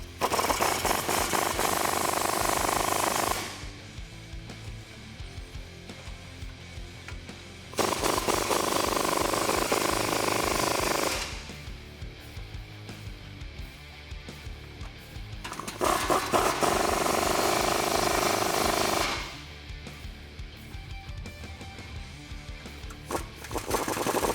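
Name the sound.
2019 RAM 1500 5.7L V8 with aFe Mach Force XP dual exhaust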